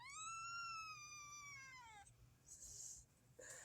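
A kitten lets out one long, drawn-out meow lasting about two seconds, quiet and close, followed by faint rustling and soft background noise.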